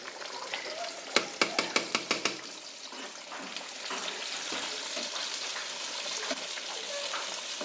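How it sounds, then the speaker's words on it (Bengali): Whole spices crackle and spatter in hot oil, tempering for a winter-morning letka khichuri, with a quick burst of sharp pops early on, then a steady bright sizzle running on alone. "এই যে এখন ফোড়ন দিব"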